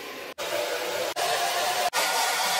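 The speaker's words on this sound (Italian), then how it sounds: "Ok, adesso li asciugo." A hair dryer blowing steadily on freshly cut hair at close range, its airflow briefly cut off three times, with no one talking.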